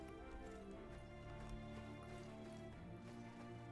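Horses clip-clopping toward the listener in the medieval battle game Mount & Blade: Warband, a steady cluttered patter of hooves over continuous low battlefield rumble, no clear talk.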